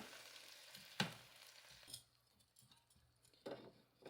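Chicken wings sizzle quietly in an air fryer basket as they are turned over, with soft crackling, a sharp metallic clack and a few faint knocks and clatters at close range. No talking.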